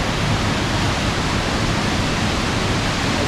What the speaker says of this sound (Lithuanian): pakeliui į Morskio oko radom krioklį